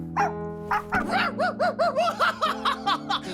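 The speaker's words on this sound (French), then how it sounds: "Il a aboyé?" A cartoon dog lets out a rapid string of yappy, laugh-like barks, about a dozen in quick rhythm over a music bed, up close and fairly loud.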